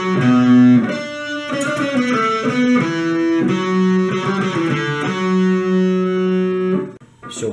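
Distorted electric guitar plays the opening of the solo from a song, sustained bent lead notes over a driving tone, loud and close, then a brief pause at the end.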